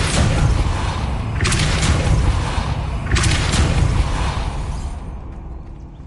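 Depulso force spell cast in a wizarding video game: a booming, rumbling blast with two sharp bursts of impact noise, loud and close, fading toward the end.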